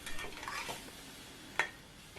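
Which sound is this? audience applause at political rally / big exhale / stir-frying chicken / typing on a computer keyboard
stir-frying chicken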